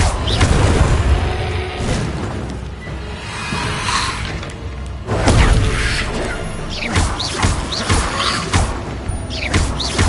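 Casting the Repulso spell in Hogwarts Legacy sets off heavy booming impacts and crashing bursts in a loud run of repeated blasts with swishing debris between them.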